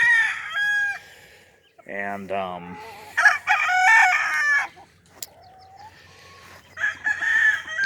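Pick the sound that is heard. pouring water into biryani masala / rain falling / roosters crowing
roosters crowing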